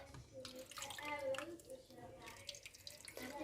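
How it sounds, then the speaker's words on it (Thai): Water being added to a pot of sweet corn set for boiling, a faint pouring and splashing that goes on throughout, with someone talking over it in Thai. "เติมน้ำอีกค่ะ"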